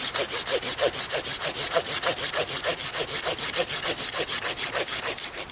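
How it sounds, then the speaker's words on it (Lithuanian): A small hand saw rasps through a hard shell in quick, even back-and-forth strokes, close up and steady, with no other sounds. "pjūkliuku elegantiškai, gražiai tiesiog pjaunam per viršutinę dalį"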